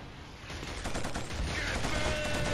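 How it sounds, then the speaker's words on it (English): Gunfire from the shooter game Killzone, a dense continuous barrage of automatic shots and battle noise, loud and sustained throughout. "Somebody's shooting me on the side, too."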